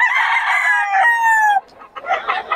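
A rooster crows loudly and close by at a market, one long drawn-out call, followed by a fainter burst of clucking and crowing.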